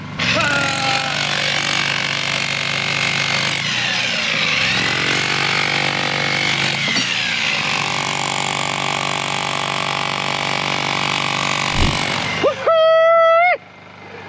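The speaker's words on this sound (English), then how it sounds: "I think they just want to play with power tools" A power tool cuts into rock while digging for geodes, giving a loud, steady mechanical roar that runs for about twelve seconds. It winds down and then ends with a few squealing tones.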